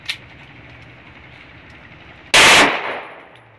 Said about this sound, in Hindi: अब इसकी ब्रस्ट फायर कर रहे हैं ना